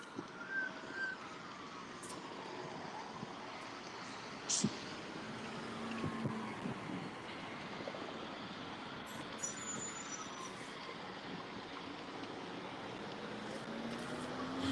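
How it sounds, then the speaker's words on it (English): A garbage truck works on a morning street at a distance, low engine drone with occasional hiss and clank, faint under outdoor ambience and intermittent talking. "I got a garbage truck right here"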